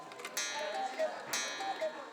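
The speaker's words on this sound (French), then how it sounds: "Le mécanisme et le coucou qui sort, je trouve ça fabuleux, toute cette technologie." A Black Forest cuckoo clock ticking close by: a quiet, steady tick-tock with metallic clicks at a regular pace, faint and mechanical.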